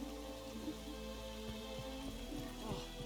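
Steady rainfall in the video game Witcher 3, a continuous even hiss of drops with faint scattered taps, heard alone with no talk.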